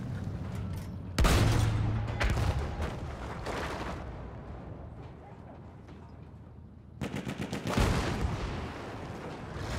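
Heavy booming cannon blasts in the video game Battlefield 1 erupt amid rumbling battle noise, with loud bursts early and again near the end over a dense, continuous din.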